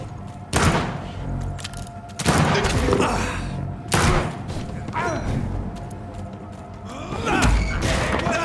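Gunfire and heavy thuds from the vampire action game Vampyr, several loud shots in separate bursts about every one to two seconds, with combat clatter and mechanical sounds between them.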